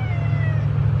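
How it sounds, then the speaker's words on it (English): A cat gives one drawn-out meow, close and clear, lasting about a second with a slightly wavering pitch. "I think when you come over here, she'll start meowing you."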